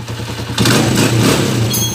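A freshly rebored, overhauled motorcycle engine idles and then revs up sharply, a loud close roar that holds and then eases back slightly.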